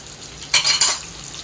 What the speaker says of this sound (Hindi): ये देखिए चिकन फ्राई हो रहा है